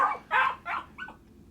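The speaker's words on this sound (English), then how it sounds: "failing to silence his incessantly barking dog" A dog barks three times in quick succession, fairly close and loud, followed by a softer yelp, with no talking.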